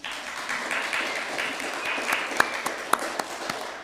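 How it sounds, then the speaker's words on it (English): Applause from a seated audience at a meeting, a moderate spread of clapping with a few sharper individual claps standing out near the end, no voices over it. "please let's applaud Stephen again"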